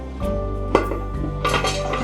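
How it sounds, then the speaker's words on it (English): A metal lid is set loosely over a pot of boiling water holding canning jars of peaches, giving a sharp clink and scraping rattle over the steady rumble of the boil. "I'm going to cover them, but I'm not going to put the lid on tight."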